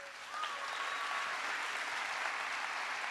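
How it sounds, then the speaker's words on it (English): Audience at a live storytelling evening applauding themselves, steady enthusiastic clapping that swells in and continues, with a faint whistle or cheer riding on top. "Can you give yourselves a round of applause?"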